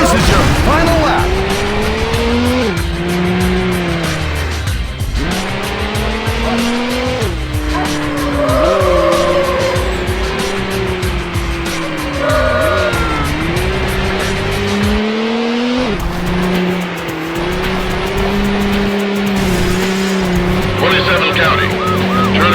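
Racing engine roars at high revs with repeated tire squeals and skids as a car is chased at speed in Need for Speed Hot Pursuit 2, loud and continuous, with police radio chatter over it.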